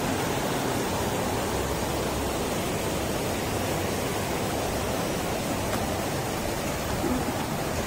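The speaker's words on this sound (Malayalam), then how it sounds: "നോക്കേ ഇതാണ് വെള്ളച്ചാട്ടം" A small waterfall at Kottiyoor pours in a continuous broadband rush of falling water, steady and fairly near, with no voices over it.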